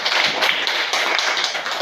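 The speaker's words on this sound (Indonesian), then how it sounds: "tepuk tangan dulu untuk nama kamu" A classroom of students clapping their hands together in a steady, busy patter of many overlapping claps, fairly close and continuous throughout.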